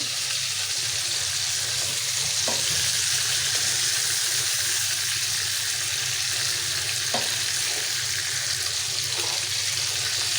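Chopped onion and tomato frying in a pan, a dense continuous sizzle close up with a low steady hum underneath and a few soft stirring knocks.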